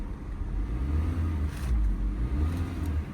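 A brand new Honda Elevate, just readied for delivery, idles with a steady low engine hum after starting, continuous and fairly close with no talk over it.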